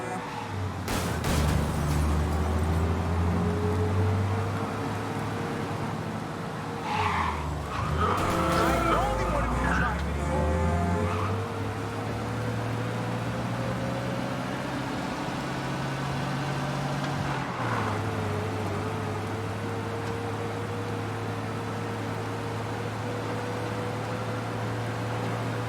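A car chase in the video game Mafia, with an engine roaring at high speed, shifting revs and squealing tires skidding through turns, with voices talking now and then over the driving.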